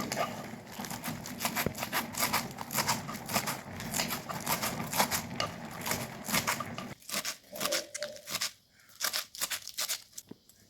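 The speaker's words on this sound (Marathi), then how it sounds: "भाजी आपण आता एकदम बारीक अशी शिरून घ्यायचे" Rapid, rhythmic crisp cuts of a knife finely chopping safflower greens, fast and close, slowing into scattered softer chops near the end.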